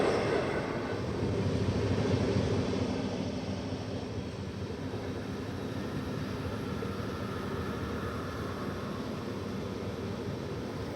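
Trains at Delhi Junction railway station, with two express trains present: a steady, broad low rumble and hiss of rolling stock and station noise that holds at a fairly even level throughout, no voices.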